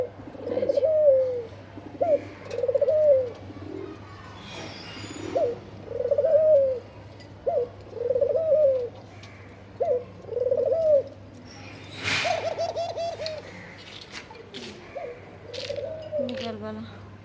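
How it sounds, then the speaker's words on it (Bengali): A pet pigeon coos repeatedly in the evening, soft rolling calls coming in a regular series, with background hum and brief chatter from people nearby. "এই যে আমার গুগু ডাকতেছে"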